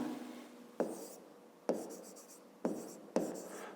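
A pen or pencil writes a math answer on paper, giving faint close scratching strokes with several sharp taps as new marks begin, quiet and alone.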